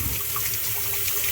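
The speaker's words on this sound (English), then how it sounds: "Step 1 is to fill up the bathtub for your puppy dog. I like to do it in the sink" Water runs steadily from a tap into a sink being filled to bathe a small dog, a continuous close, rushing splash with no talk.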